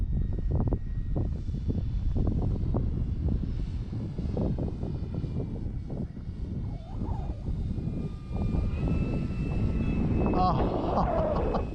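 An E-flite Draco electric RC plane flies overhead, its propeller whine droning steadily and shifting in pitch as it passes, with someone talking over it outdoors.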